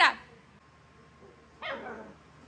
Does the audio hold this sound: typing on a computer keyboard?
no